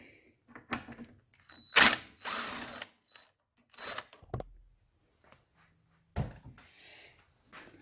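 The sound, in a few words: ratchet removing a 1/4-inch bolt from a lawnmower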